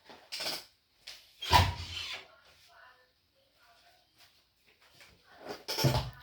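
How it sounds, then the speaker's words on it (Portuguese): A door opened indoors, with a soft wooden knock, a brief rub and a clunk around mid-clip, set among short bursts of nearby talk. "Eu vou abrir a porta, vai escutar um pouquinho."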